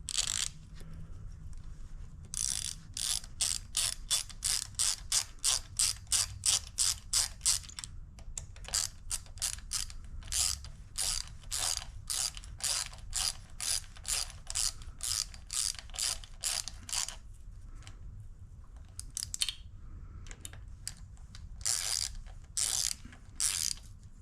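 Screws on an E Ride Pro SS 2.0 e-bike light mount are tightened with a ratchet, giving quick runs of sharp, close clicks in bursts with short pauses between strokes.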